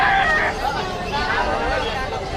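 Bantam chickens cluck and call over a busy pet market in Malabon, Philippines, with faint chatter, continuous and moderately loud.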